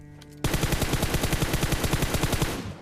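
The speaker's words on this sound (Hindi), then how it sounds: "इसीलिए मैंने स्मोक में रैंडम फायर किया" Rapid automatic gunfire in a video game shooter, sprayed blindly into smoke, bursts in after a short quiet start and hammers on in a steady, even rhythm of loud, close shots to the end.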